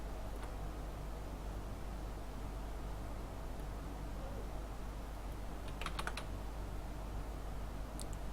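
Computer keyboard keys are tapped while using Adobe Illustrator, just a few sharp, quiet clicks in brief clusters over a steady low electrical hum, with no speech.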